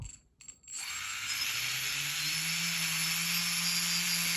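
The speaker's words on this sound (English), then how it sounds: "All the motors are running." Small assembled quadcopter motors spin up from low throttle into a steady, loud whirring buzz with rising tonal hum, continuous and close after a brief quiet start.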